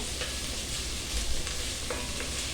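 Onions and green chilies browning over a high flame, a dense continuous sizzle with occasional light scrapes, close and constant.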